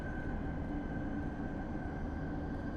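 London Underground Metropolitan line train approaching, a steady dense low rumble with a thin sustained tone above it, moderately loud and unchanging over a few seconds.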